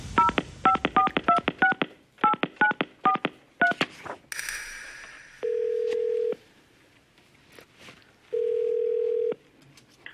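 Touch-tone keypad dialing for an outgoing phone call: two quick bursts of rapid DTMF beeps, a few more tones, then two long ringback tones separated by a pause, clear and alone with no talking.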